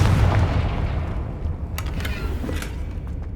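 The Confringo blasting spell in Hogwarts Legacy goes off in a deep booming explosion that rumbles and fades, with a few sharp crackling pops after it.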